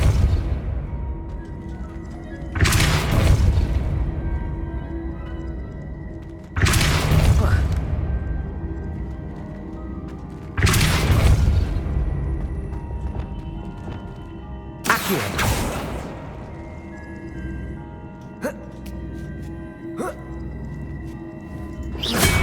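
Depulso spell cast in the video game Hogwarts Legacy: four loud, booming whooshing blasts land about four seconds apart, each fading into a rumbling tail, with game ambience between them.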